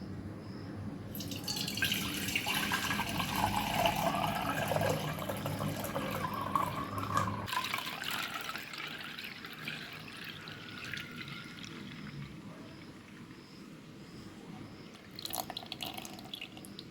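Melted jaggery syrup is poured through a strainer, making a steady trickling and dripping of thick liquid for several seconds before it thins to softer drips, with a faint clink near the end.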